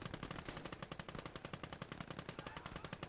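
Rapid automatic gunfire from a tank in the WWII strategy game Gates of Hell: Ostfront, a dense steady stream of sharp shots at fast regular rhythm, loud and alone with no voices.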